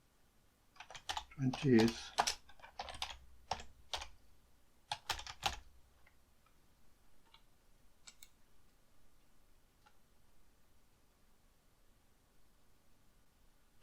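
Quick bursts of clicky computer keyboard typing, close and crisp, clustered in the first half and then trailing off into sparse taps and near silence, with a brief spoken word.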